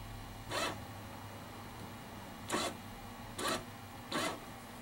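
A Prosharp AS 2001 hockey skate sharpening machine sliding back and forth along a blade, giving four short, evenly spaced grinding sweeps over a steady low motor hum.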